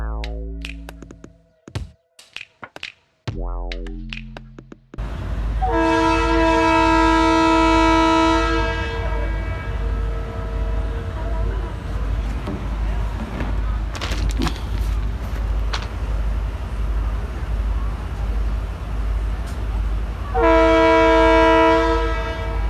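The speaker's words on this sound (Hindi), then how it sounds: "AGE 30 लोकोमोटिव की जोरदार विसल और ट्रेन के व्हील घूमना शुरू हो गए।" An AGE 30 locomotive on a passenger train sounds a loud, sustained horn-like whistle several times, with rumbling rail noise and wheel clatter building between the blasts, close and alone.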